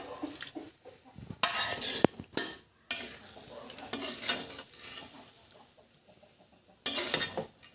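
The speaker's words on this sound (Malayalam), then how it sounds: "നന്നായി ഇളക്കിയിട്ട് ഇതിലേക്ക് വറുത്ത് വെച്ച മത്തി ഇട്ട് കൊടുക്കാം" A spoon stirring a sardine curry in a pan, then fried sardines dropped in, with scraping, clattering bursts and a soft simmering sizzle between quieter pauses, no talking.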